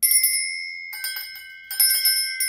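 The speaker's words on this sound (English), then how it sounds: "Okay, now I'll be ringing these bells." Small bells ring clearly in three bursts of bright, sustained metallic tones with gaps between them, rung close by to cleanse the space, with no talking over them.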